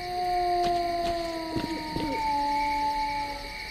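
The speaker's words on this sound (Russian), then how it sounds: "Просто бешеная собака." Howling from dogs in the game S.T.A.L.K.E.R. Clear Sky: a long, steady wail over a droning background, with a few brief rising cries near the middle, no talk.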